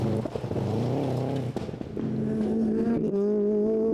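A Subaru Impreza rally car on a forest rally stage revs hard and climbs through the gears, its engine note rising and shifting loudly and close by, with no voices.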